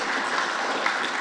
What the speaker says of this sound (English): Let's give them a round of applause, because they've really brought it home.